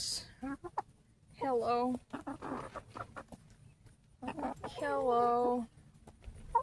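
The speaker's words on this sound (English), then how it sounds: "It's time to water the chickens." Backyard pet chickens, three hens, cluck and make drawn-out warbling calls in two bursts, fairly close, while a person greets them between the calls.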